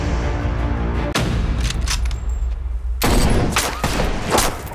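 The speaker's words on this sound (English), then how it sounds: "Jesus, Jake, somebody is shooting at us!" Loud gunfire erupts in a dramatic film trailer scene, a sharp blast followed by a dense roaring barrage, set over a constant heavy background rumble.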